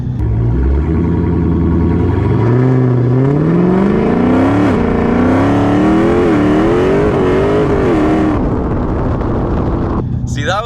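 A car on Mickey Thompson ET Street tires spins its wheels in third gear during a traction test, the engine roaring loudly and climbing in pitch with a steady, continuous drone.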